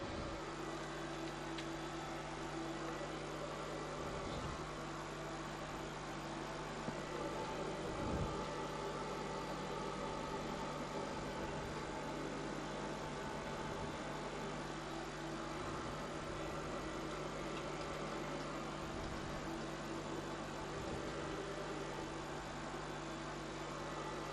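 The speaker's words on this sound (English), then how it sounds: "And we'll start the number 1 engine as well." A full-size Boeing 737 flight simulator plays a steady, low engine drone as the number one engine starts and idles, a constant hum with faint periodic dips and no talk.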